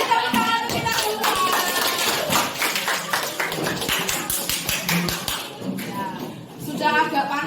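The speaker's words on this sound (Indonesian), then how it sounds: "Oke, beri tepuk tangan untuk kita semua." Students in a classroom clap together in a loose, lively burst, sharp hand claps layered close to the microphone with some tapping and murmuring voices mixed in throughout.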